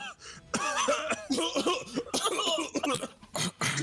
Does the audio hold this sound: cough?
yes